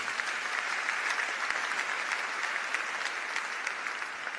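A church congregation applauds steadily, a dense, continuous clatter of many hands that stays loud and even throughout with no voices over it.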